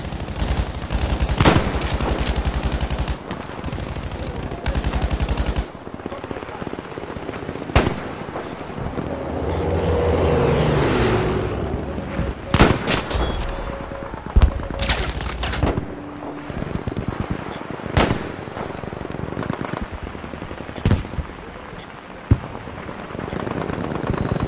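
Battlefield V gunfire in a wartime battle, bursts of rapid machine gun fire and sharp single shots ringing out at irregular intervals, loud and near, with a rumbling swell of noise midway and a few shouted voices.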